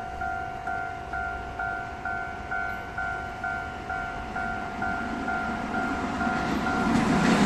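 Puyuma Express tilting train, TEMU2000 set on the North-link line, passing at a station with a rhythmic clickety-clack of wheels over rail joints, steady and fairly close, with a steady tone above it and no talk.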